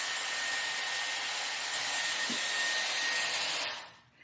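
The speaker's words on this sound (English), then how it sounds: "I'm blow drying away from my face to give me volume." A Dyson Airwrap styler blow-drying hair, a steady loud airy whoosh held close for several seconds, then cutting off abruptly near the end.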